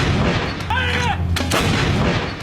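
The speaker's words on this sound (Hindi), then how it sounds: "धनुष यानी देश में बनी पहली हॉवित्जर तोप।" A Dhanush howitzer artillery gun fires in India, a loud, booming blast with a deep rumble and a sharp crack midway, heard up close amid noisy outdoor surroundings and no talk.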